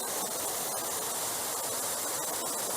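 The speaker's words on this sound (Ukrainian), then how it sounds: "Водоспад Шумило" Shumylo waterfall, about four metres high, in a Carpathian forest setting, pours as a steady, dense broadband roar of falling water, constant and close with no voices.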